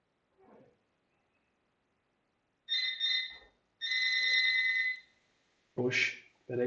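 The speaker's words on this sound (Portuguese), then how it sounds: "peraí que o telefone tocou aqui" A telephone rings in a few separate bursts of a bright two-tone electronic ring, with short gaps between them, during a remote software engineering class; brief faint sounds sit in the pauses.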